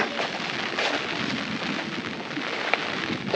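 Steady rain falls on a rubber farm in Kanniyakumari, a dense continuous hiss with scattered drop patter and occasional sharper taps, fairly close and even in level throughout.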